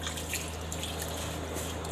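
Water poured over poha (flattened rice) in a strainer as it is washed, a steady close splashing and trickling wash with no talk.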